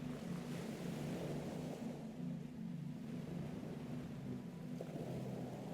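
Steady ocean surf rolling in continuously, with wind rushing across the microphone and a low constant roar throughout.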